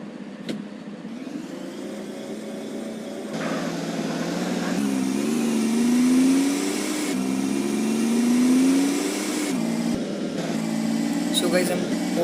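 A car engine in the GTA San Andreas video game hums and rises in pitch as it accelerates along the road, with gear-like shifts and steady driving noise throughout while someone speaks Hindi over it.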